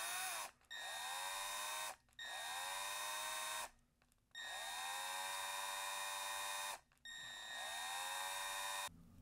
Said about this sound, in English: enjoy the drill noise is imitating the noise for me removing all the bolts